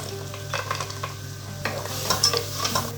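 Onions and whole cashews with salt sauté in a pan for a chicken macaroni dish, giving a steady soft sizzle with a spoon stirring and scraping several times, close and with no voices.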